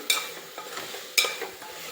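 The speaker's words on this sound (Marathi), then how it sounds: "त्यानंतर तसेच आकारात चिरलेले वांगेसुद्धा घालायचे आणि त्यांना मसाल्यामध्ये एकजीव करायचे छान" Chopped potatoes and eggplant are stirred into masala in a pan, giving a few scraping, clattering stirs over a soft background sizzle.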